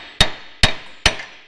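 Three sharp, loud hammer blows on metal on a Jeep in a repair shop, evenly spaced about half a second apart, each ringing briefly before the next strike.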